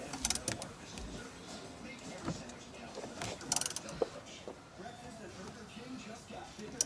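A ratchet wrench clicks in short bursts while car parts are installed on a Honda S2000, mixed with metallic handling noises and casual talk nearby.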